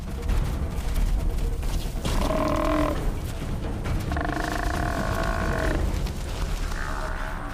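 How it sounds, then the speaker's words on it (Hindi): A cape buffalo bellows repeatedly while lions attack it in the wild, drawn-out moaning calls in bursts over a dense, rumbling backdrop of struggle and growling. "शेरों के शांत होते ही भैंसे ने भागने की कोशिश की"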